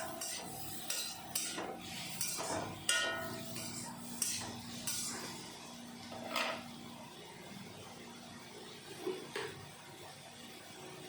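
Small fish with salt and chili powder being stirred in a pan, a spoon scraping and clinking against the metal in uneven strokes, close and fairly quiet over a faint background hum.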